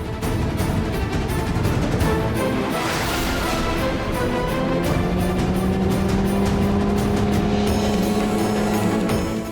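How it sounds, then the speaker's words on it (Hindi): A car circles outside, its engine droning and swelling as it passes, with rising whine-like tones and some tyre noise in a steady, fairly loud run. "ये कार यहाँ बाहर पर चक्कर क्यों लगा रही है?"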